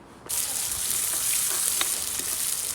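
Hot oil sizzles loudly and steadily as spices are tempered outdoors, after a short quiet start, with a bright, crackling hiss and a few faint clinks.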